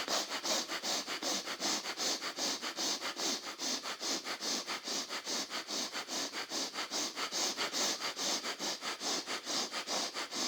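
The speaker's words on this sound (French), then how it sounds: "ce sont des expirations forcées, on va le faire une 30aine de fois" Rapid forced exhalations of Kapalabhati yoga breathing, sharp rhythmic nasal puffs at about two to three per second, close and steady throughout with no talking.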